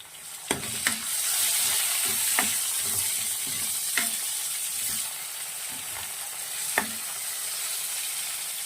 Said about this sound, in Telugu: ఇప్పుడు మనం కట్ చేసి పెట్టుకున్న టమాటా వేసుకున్నాం